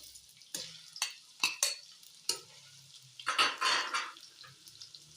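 Meat and lightly browned onions fry in a pan while a spoon stirs, giving sharp scraping clacks of utensil on metal amid a steady sizzle that swells loudly near the end, heard close with no talking.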